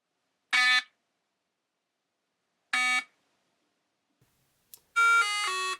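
An FTX Outlaw radio-controlled car's electronic speed controller starting up: two separate beeps a couple of seconds apart, then a short rising sequence of tones, crisp and close in otherwise silent surroundings.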